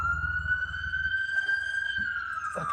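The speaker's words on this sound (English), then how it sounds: "Fucking ambulances." An ambulance siren wails in one long, steady, sustained tone, fairly loud and continuous, with faint low rumbling beneath it.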